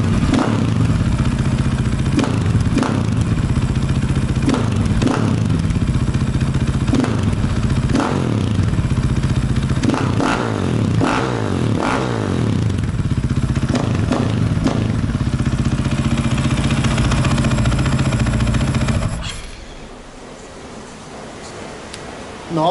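KTM EXC 500 F dirt bike fitted with an FMF exhaust, revving loudly and close by with repeated throttle blips and a rough, thumping single-cylinder idle, then cutting off near the end.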